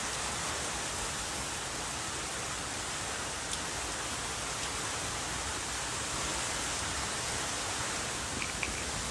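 Steady, loud rain with wind from typhoon Ambo lashing Marinduque, a dense continuous hiss that runs unbroken throughout with no voices.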